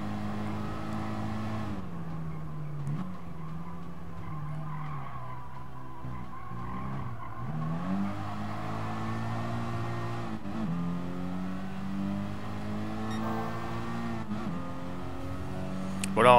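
A car engine in Gran Turismo Sport, a front-wheel-drive car racing on gravel and dirt, hums steadily with a synthetic, computer-like tone, its pitch dropping and climbing again at several gear shifts. It plays loudly and continuously with no talk.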